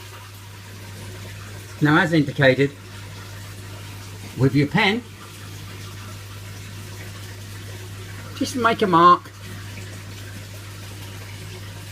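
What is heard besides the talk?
water running while refilling aquarium, FX6 filter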